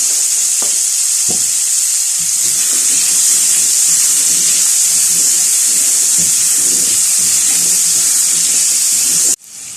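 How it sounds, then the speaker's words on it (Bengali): Potatoes seasoned with salt and turmeric fry in oil, giving a steady loud sizzle that holds for nearly ten seconds and then cuts off abruptly. "আলুটাকে একটু ভেজে নেব"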